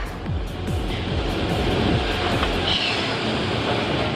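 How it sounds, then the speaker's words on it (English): A giant inverted boomerang roller coaster train is grabbed by a catch wagon and lowered back into the station, giving a steady rumbling, clattering rail noise with a few mechanical clicks that fades slightly toward the end. "On the return to Tower 1, the first catch wagon grabs the train and lowers it to the station."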